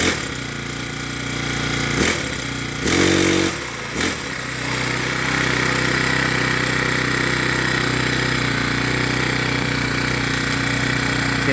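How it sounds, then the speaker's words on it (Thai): A small engine runs at a steady loud drone, with a couple of brief revving bursts early on, then holds a constant buzzing idle, its blades not spinning. "เขาเร่งเครื่องครับ"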